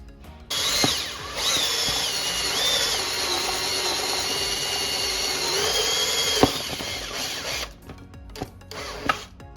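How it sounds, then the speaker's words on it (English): A power drill whines steadily and close for about six seconds, boring out a battery cover on a Shelby GT350, then stops and a few clicks and taps follow. "I'm gonna take the battery cover off to drill it out."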